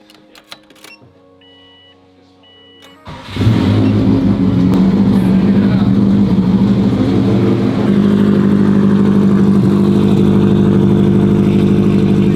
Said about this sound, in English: Sounds like a truck. It's got the nice chop to it. It sounds like it's cammed a little.